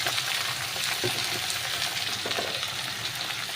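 Okra and potato pieces frying in hot oil, a dense, constant sizzle with faint stirring clatter, close and even in volume, with no talking.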